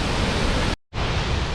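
Victoria Falls, the broad African waterfall, roars in a loud, constant rush of water. The sound drops out for a brief moment partway through, then returns.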